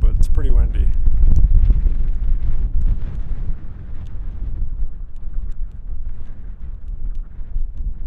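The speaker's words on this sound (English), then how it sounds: "It's a pretty good tripod, but it's pretty windy." Strong wind buffets the microphone in Colorado's Flat Tops Wilderness with a loud, low roaring rumble, heaviest at first and then easing a little but continuing throughout.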